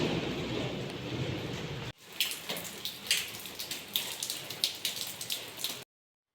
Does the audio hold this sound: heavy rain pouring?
yes